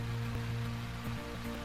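Steady rain hiss in the Gold Rush video game, a constant wet wash with a low tonal hum running underneath, moderate level and unbroken throughout.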